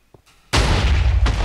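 A homemade cannon fires in the SAMP multiplayer game: a quiet moment, then one sudden loud blast that rolls on into a sustained, heavy rumbling roar.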